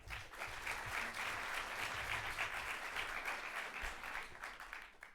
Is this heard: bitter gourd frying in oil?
no